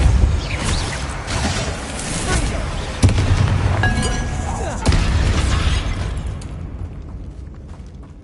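A Bombarda explosion spell cast in Hogwarts Legacy on PS5, a dense, loud blast with crackling debris and two sharp impacts, over a rumbling game soundscape that fades near the end.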